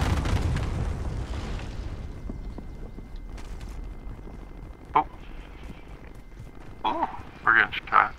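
Airstrike explosions in Modern Warfare Warzone, a broad low rumble at the start followed by sharper bursts and pops later on, mixed with game effects and squad chatter.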